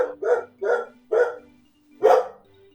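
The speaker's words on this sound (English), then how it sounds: "My puppy didn't see anything. Apparently, she barked thinking that someone was here" A puppy barks indoors, close and loud: four sharp yips in a quick uneven run, a pause, then a final louder bark, with a steady low hum behind.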